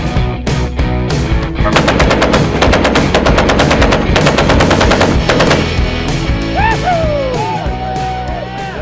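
Dense bursts of fully operational machine-gun fire from a large private collection, loud and rapid, with overlapping rattling volleys that thin out toward the end as shouts and whoops rise.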